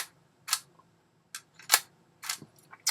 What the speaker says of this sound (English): So the shutter is firing, which is good.